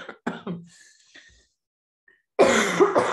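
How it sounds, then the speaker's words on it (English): A person coughs and clears their throat in a few short close bursts, separated by a silent pause before a longer rasping throat clear at the end. "the cough that will no doubt continue to make an appearance"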